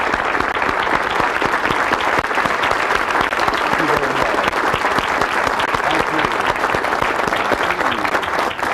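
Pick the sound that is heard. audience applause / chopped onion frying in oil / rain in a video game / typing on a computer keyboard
audience applause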